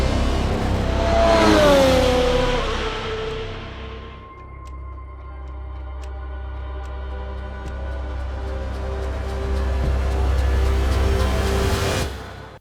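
A supercar in Dubai revs hard and accelerates away under a drone speed-record chase, its engine note climbing, then settling into a steady droning roar before a final surge.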